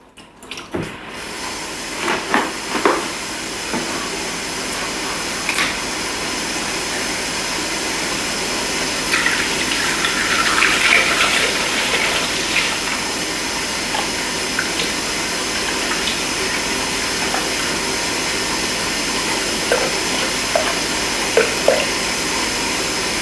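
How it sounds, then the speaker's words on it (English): Full cream milk pours steadily into a Thermomix bowl, a continuous liquid rush that holds evenly for most of the stretch after a few opening knocks. "We're going to place 900 mils of full cream milk."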